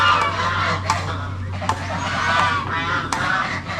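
Backyard geese and ducks in a stone-edged pen honk repeatedly in loud, close, irregular calls over a low steady hum.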